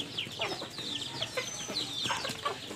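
A mother hen clucks near her young chicks, less than a month old, on a small farm. The clucks are short and repeated, close by and fairly clear.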